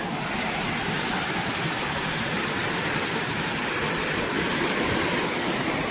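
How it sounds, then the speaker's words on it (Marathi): A jungle waterfall in the rainy hills pours in a loud, steady broadband roar that stays constant and close throughout, with no voices. "केवढा भारी धबधबा आहे बघा"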